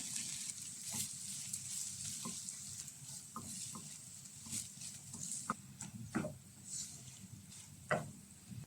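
Cooked chicken stirred into masala in a pan, with a soft steady sizzle and scattered light scraping and clinks of a utensil, faint and close, no talking.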